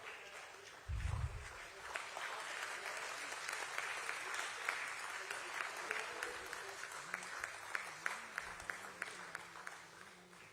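Sustained applause from a seated audience at a company listing ceremony, steady and dense for the full stretch, with a brief low rumble near the start and a faint voice over the clapping.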